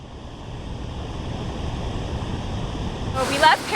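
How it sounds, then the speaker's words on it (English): Ocean waves roll in where a river meets the sea on a tropical Dominican Republic shore, a steady broad rush of surf and wind with a louder splash near the end. "this is actually where the river meets the ocean"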